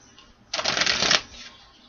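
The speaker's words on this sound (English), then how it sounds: "One more shuffle" A brief riffle of playing cards being shuffled, a quick papery burst lasting under a second in a quiet room.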